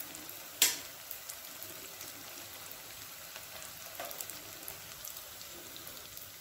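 Ginger garlic paste sautés in a pan for quail curry with a faint, steady soft sizzle and one sharp clink near the start.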